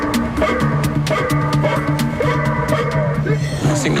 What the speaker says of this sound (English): We've rigged the trunk of this car to blare out the noise of a barking dog.